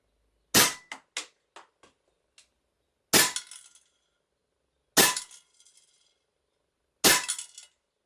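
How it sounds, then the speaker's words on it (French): Cybergun Glock 17 Gen 4 full-metal airsoft pistol firing 4.5 mm BBs at 1.7 joules, four distinct sharp cracks spaced about two seconds apart, each followed by short metallic clinks and rattles, close and clear with no talk. "Alors, je ne sais pas du tout où je tire."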